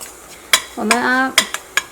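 Semolina being stirred and roasted in a pan for green gram laddu: a few close metallic spoon clinks and scrapes against the pan, with a brief ringing tone in between.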